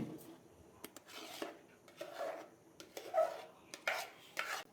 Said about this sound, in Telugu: ఇందాక మనం స్మాష్ చేసుకున్నాం కదా పప్పులని, ఆ పప్పులని మనం ఇందులో కలుపుకుందాం